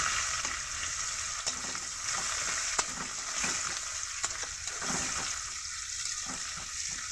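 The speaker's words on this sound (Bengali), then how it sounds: "পেঁয়াজ কুচি পড়ে গেলে লাল লাল করে ভেজে নেব।" Steady sizzling and crackling of onions frying in hot oil, with occasional sharper pops and stirring scrapes, close and continuous throughout.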